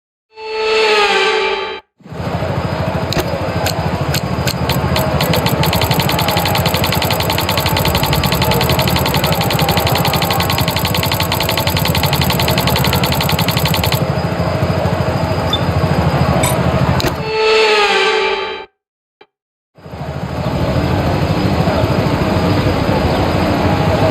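Formula 1 cars on the formation lap at the Singapore street circuit in the F1 25 racing game, a loud, steady engine drone holding for about twenty seconds, with short breaks at the start and near the end.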